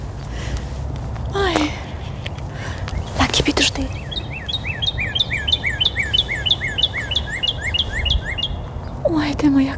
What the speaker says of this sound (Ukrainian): кардинал співає моя улюблена пташка